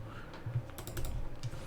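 Scattered mouse clicks during a game of Plants vs Zombies, a few soft taps over a dull background hum, close by.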